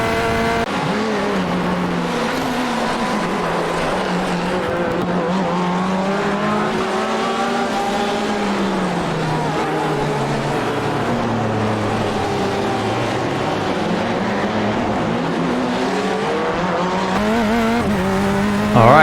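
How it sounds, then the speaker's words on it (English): Corvette C8.R mid-engine race car in the iRacing sim at Long Beach, its engine tone sweeping up and down through hard braking, downshifts and acceleration, with tire squeal, steady and loud throughout with no talk. "this Corvette loves big heavy braking, especially at the start of the braking zone"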